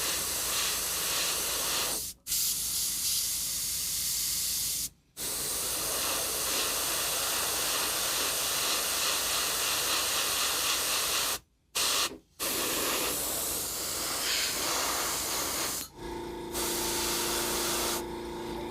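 An airbrush sprays contrast paint with a continuous, close, airy hiss that cuts out briefly several times as the trigger is released, then shifts tone near the end; no one speaks.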